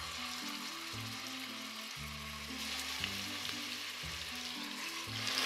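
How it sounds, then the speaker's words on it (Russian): Meat cutlets sizzle and crackle steadily in hot oil in an open multicooker, a continuous close frying hiss with a low mechanical hum underneath. "отправляем обжариваться котлеты"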